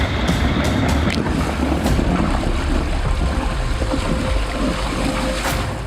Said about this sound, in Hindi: ये आवाज नदी में से आ रही थी। पानी में भंवर बनने की थी शायद